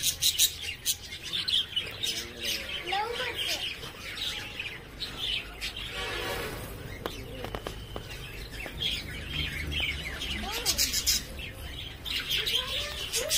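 Many birds chirp and call in an aviary play area near Mysore, a dense busy chorus of tweets and trills that carries on throughout, fairly close with faint background murmur.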